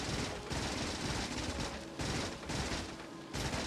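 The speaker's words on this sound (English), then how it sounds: "I'll clear out a few last trees with just a machine gun." Sustained machine-gun fire in the video game Factorio, aimed at trees, runs as a dense unbroken rattle for nearly four seconds with only brief dips, loud and close with no talk over it.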